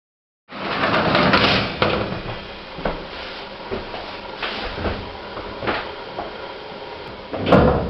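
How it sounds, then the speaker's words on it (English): An old gated lift's doors clatter shut with a run of metallic knocks and scrapes, loud at first and then settling into lighter taps, with a final clunk. "Doors closing. Rear doors closing."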